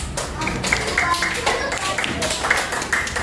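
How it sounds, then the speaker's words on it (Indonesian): Classroom applause for a student group, with scattered hand claps and taps in a lively room, voices chattering underneath throughout. "tepuk tangan untuk kelompok 4"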